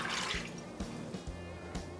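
Warm water, one and a half cups, pours into a bowl for pizza dough, a short burbling splash with gurgling pulses and drips, close and alone.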